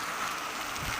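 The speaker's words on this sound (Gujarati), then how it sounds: "ખૂબ જ વરસાદ છે." Heavy rain falling in a steady, even hiss, fairly soft and unbroken, with no voices over it.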